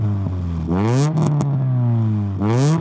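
A Chevrolet Nova Twin Cam with a loud cherry bomb exhaust revs hard twice, climbing in pitch, holding briefly, then dropping back, close and raspy with no talk.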